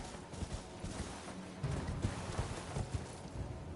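A horse's hooves clop along in Elden Ring's Limgrave, with soft, quick, uneven beats heard faintly and alone.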